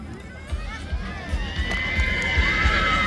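A horse neighs during a horse parade in Baia Mare, Maramureș, with a whinny rising over crowd murmur and a loudspeaker announcer's voice.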